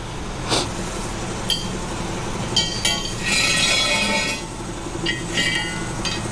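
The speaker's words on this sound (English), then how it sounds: "we're gonna grab that with the pliers and keep doing our thing with the wrench until we get that nut backed off of the threads" A wrench works a spinning valve stem nut on a truck trailer tire, giving sharp metallic clinks and clatters at irregular intervals over a steady background hum, with a brief hissing burst midway.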